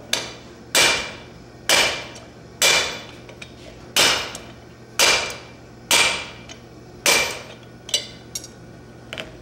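A blacksmith strikes hot metal with a hammer while turning the stock to draw out a tenon, about ten loud, ringing blows at a steady pace of roughly one per second, each decaying before the next, with no talk.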